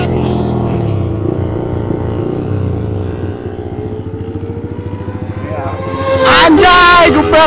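A big motorcycle engine revs hard at a street meetup, a throbbing, uneven roar that swells sharply into a loud, high-pitched scream near the end, with voices in the background.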